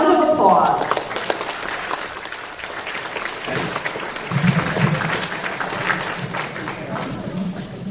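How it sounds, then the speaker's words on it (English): Audience applauding at a school drama club play, a dense, continuous wash of clapping from many people in a hall, with voices and a brief tone near the start. "can we give them a round of applause?"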